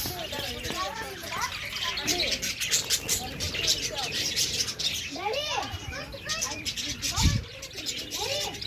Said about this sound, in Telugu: ఫిషర్స్ లవ్ బర్డ్స్ అంట.